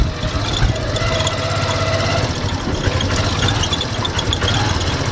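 A motorcycle tricycle engine runs steadily at low idle in the Philippines while a learner drives, a continuous low rumble with mild vibration, close by and fairly loud throughout.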